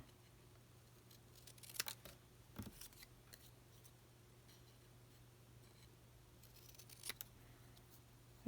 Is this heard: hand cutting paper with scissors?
yes